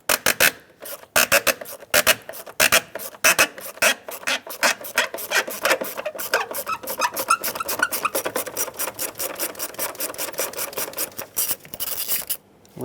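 A ratcheting socket wrench with an extension backs out a 10mm battery hold-down bolt on a 2011-2018 Ram 2500, giving rapid, rhythmic clicking bursts that speed into a steady close ratchet, with no talking.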